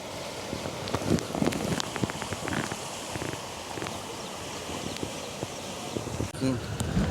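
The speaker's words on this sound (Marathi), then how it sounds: "पावसाच्या सरी येत आहेत" Rain showers falling on the Ratangad trek in the Sahyadri hills beside a stream, a continuous patter with scattered sharper drops and brief rustles, steady throughout with no one talking.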